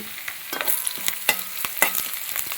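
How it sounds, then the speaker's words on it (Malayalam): Curry leaves frying in a pan for a bitter gourd and dried prawn stir-fry, a close, lively sizzle with rapid spoon scrapes and taps as the leaves are stirred, with no talking. "കറിവേപ്പില ഇട്ടോ, 4 ഇതള കറിവേപ്പില ചെറുതായി ഇളക്കി."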